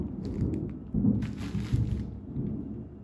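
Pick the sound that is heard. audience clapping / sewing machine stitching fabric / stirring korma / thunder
thunder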